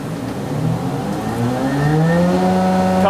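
An industrial Weinig five-head wood moulder spins up as one of its cutter head motors starts, a loud steady machine drone whose tones climb in pitch as the motor comes up to speed over ongoing running noise.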